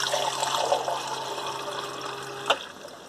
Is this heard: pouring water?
yes